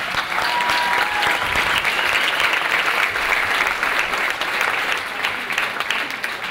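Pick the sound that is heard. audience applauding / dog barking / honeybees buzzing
audience applauding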